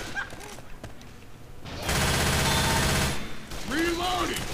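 Sustained automatic gunfire rattles loudly for about a second and a half in Left 4 Dead 2, after quieter game noise and faint speech, with a brief burst of other in-game sounds at the end.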